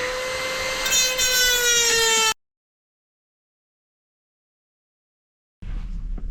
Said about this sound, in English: Using a Dremel tool with this.